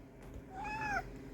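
A house cat lets out a single short, clear meow close by, rising and falling, over a quiet room hum.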